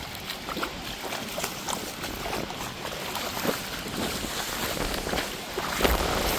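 Constant broadband rush of water pouring down at a temple waterfall in Minajola near Rayagada, where ritual bathing water from the deity flows below. Fairly distant and steady, with wind buffeting the microphone.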